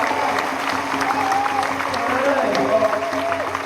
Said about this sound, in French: Alors, applaudissez-vous bien fort.